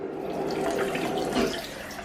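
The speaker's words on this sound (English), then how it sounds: "It's the shower." A shower runs steadily in a themed glamping cabin bathroom, a constant close hiss of spraying water with no talking.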